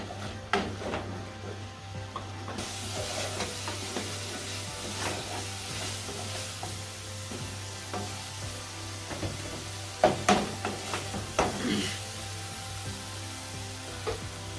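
Spice paste sizzles steadily in a pan for a Bengali hilsa fish and sweet pumpkin dish, with scraping stirs and clattering strokes of a spoon that bunch into a louder run near the end.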